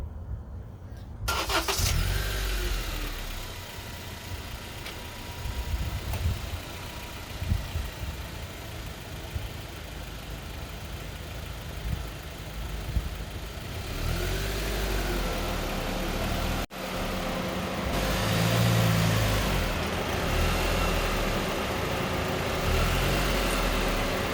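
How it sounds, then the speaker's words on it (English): A 2015 Honda Civic Si engine idles and then revs as the car creeps forward up a pair of car ramps, with a steady close mechanical hum, a brief cut partway through and a louder push of throttle near the end. "So I've already lined them up with the front tires, so I'm just going to drive right up them."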